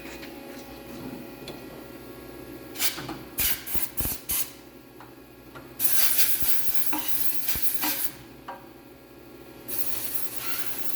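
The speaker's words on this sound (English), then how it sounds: "Can of compressed air." A can of compressed air sprays debris off a part in a metrology setting: close, loud hissing bursts, a few short puffs then two longer blasts, with light handling clicks between.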